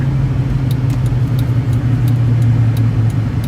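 Pickup truck engine idling with a Big Boss tuner plugged in, a steady low rumble heard from close by with faint ticking above it, no talk.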